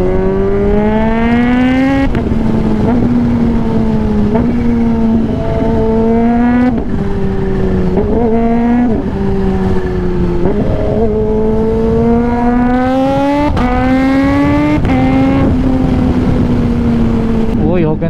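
A Z H2 motorcycle engine drones and revs repeatedly in stop-and-go traffic on a bypass road near Vigan, loud and close, its pitch rising and falling with each throttle change.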